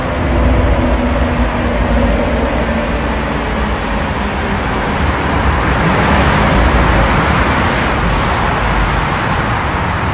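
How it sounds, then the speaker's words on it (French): A car approaching through a tunnel, a steady, loud, reverberant roar of engine and road noise that swells slightly as it draws near, with no talking. "Il y a une voiture qui arrive."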